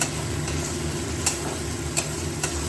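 Onion, garlic, ginger and green chilli paste fries in a pan with a steady, close sizzle, broken by a few sharp clicks of stirring and no speech.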